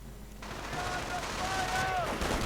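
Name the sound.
gunfire from riflemen's BARs in a video game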